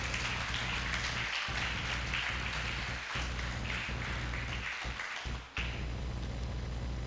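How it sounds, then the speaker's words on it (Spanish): A church congregation at Centro Cristiano Prados del Este applauds with steady, dense clapping that holds for several seconds, fairly faint and even, with a few brief dips. "Aplauda al Señor por ello."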